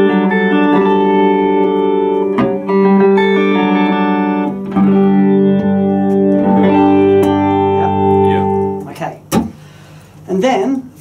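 Guitar signal through a pedalboard with an output phase-reversing switch, flipped between out of phase and in phase, giving a sustained, effected tone whose bass thins and returns, with a few louder strums and noisy bursts near the end.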